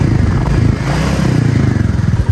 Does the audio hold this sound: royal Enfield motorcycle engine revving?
yes